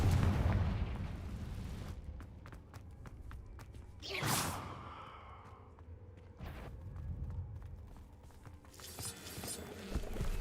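A Confringo spell explodes in the video game Hogwarts Legacy with a single sharp, loud blast that fades into a short rumbling tail, with faint clicks and quieter game sounds around it.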